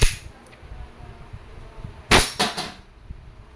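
An E&C airsoft Glock 19 Gen 5 pistol fires a few sharp, close snapping shots in quick succession over a quiet background, preceded by a faint click.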